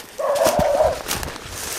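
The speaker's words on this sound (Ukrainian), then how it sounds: "Собаки!" A dog gives a short whining yelp followed by a few sharp barks, fairly close, with some background noise, in the old town of Kamianets-Podilskyi.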